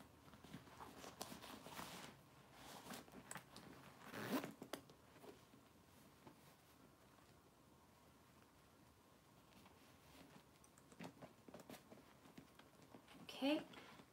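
A zipper on a handbag pocket gives a few quick, quiet rasps, with two louder pulls standing out from faint handling noise, close by and without talk.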